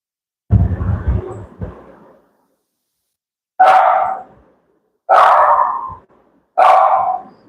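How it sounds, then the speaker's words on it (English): A dog barks loudly and close by: a rough double bark, then three sharp single barks spaced about a second and a half apart. "She's barking again."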